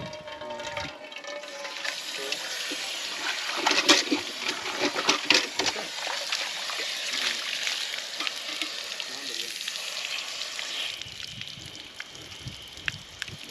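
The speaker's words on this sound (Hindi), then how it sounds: "खोलो इसको, नल को खोलो जरा, तेज आएगा" Water gushes from an opened tap on a trip in Almora, a steady hissing, splashing rush lasting throughout that eases slightly toward the end, with no talking.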